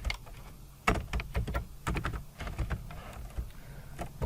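Rapid clacking keystrokes on a computer keyboard while writing Kotlin code, with irregular bursts of close, crisp clicks and short pauses and no one speaking.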